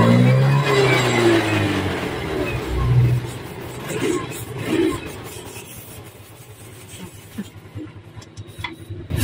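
A Yamaha Mio 125i scooter engine, misfiring after throttle body work, runs unevenly up close with surging revs that falter and stumble, then drops to a rough, sputtering idle with irregular pops.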